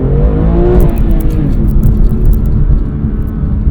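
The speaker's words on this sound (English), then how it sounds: "Let's test acceleration" A BMW M2 under hard acceleration from the driver's seat: a loud, deep engine drone climbs in pitch, dips briefly as if through a gear change, then keeps pulling with a rough, throaty roar.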